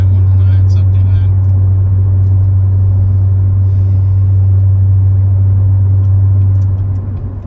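A 750 rwhp C7 Z06 Corvette with a BTR stage 2 LT4 camshaft idles loud and close, a steady low rumble throughout that fades slightly at the end.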